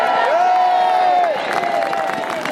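Crowd at a street rally cheering and applauding, with broad wideband noise, a sustained high whoop and scattered shouts, loud and close, fading slightly after the first second.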